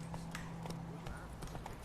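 Roach, Geralt's horse in The Witcher 3, trots along with a few distinct hoof clops spaced at an easy rhythm, heard under a low hum and a speaking voice.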